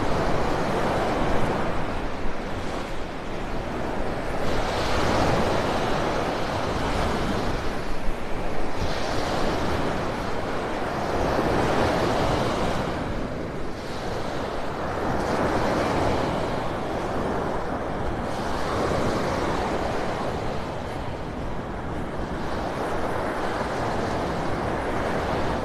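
Surf rolls continuously onto Vanderbilt Beach in North Naples, Florida, at sunrise, with steady loud wash and broad swells rising and falling every few seconds, mixed with wind rumble on the microphone.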